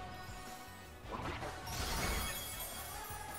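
Hammer Arm attack landing in Pokemon Scarlet and Violet, a crashing, smashing impact that swells into a loud burst and then lingers over a steady game background.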